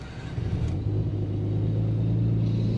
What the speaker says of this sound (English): Clean idle. No drama, no nothing.